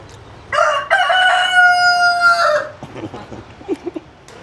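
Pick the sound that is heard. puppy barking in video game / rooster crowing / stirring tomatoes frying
rooster crowing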